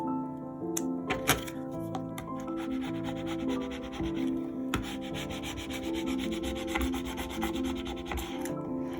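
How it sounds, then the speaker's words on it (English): A scraper pushed across film on a handmade card gives a close, steady scratchy rubbing, with a couple of sharp clicks and taps. There is no talk. "I'm gonna actually take my scraper here and just give one little push and see if that helps."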